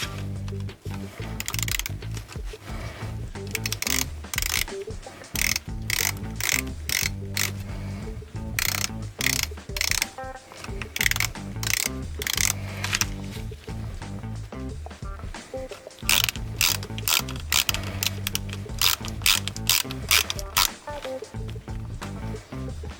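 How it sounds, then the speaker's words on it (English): Screws are run into an HP DPS-1200FB server power supply with a ratcheting driver, giving bursts of rapid close clicking and ratchet chatter with short pauses between turns. "now we need to run these screws all the way in"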